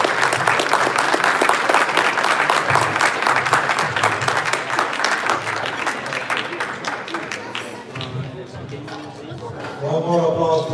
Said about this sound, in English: One more applause for Dr. Adam Fox.